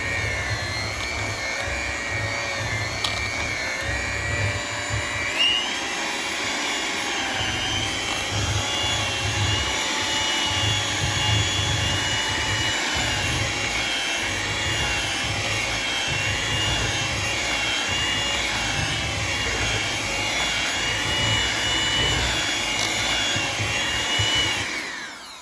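A mixer beats thick, soft whipped shea butter on low speed, a steady close motor whine with a buzzing, wobbling hum that holds unbroken for the whole stretch, with no one speaking.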